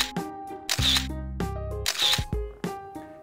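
Shutter clicks from a ZenFone 5 phone camera taking photos: two loud, crisp shutter sounds about a second apart, each followed by a short mechanical whir, heard close and alone.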